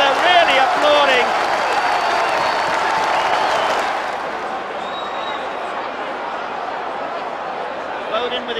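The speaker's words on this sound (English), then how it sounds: "the fans are really applauding" Football fans in a Wiltshire stadium applaud and cheer a goal, a loud crowd roar with clapping that settles into a lower sustained murmur, a commentator's voice over it at the start.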